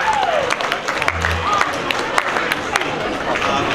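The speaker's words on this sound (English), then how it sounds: "So everyone, please give him a great round of applause" Audience applause in a church hall at a Christmas carol concert, steady clapping from a crowd with some chatter and cheering mixed in, continuous and fairly loud throughout.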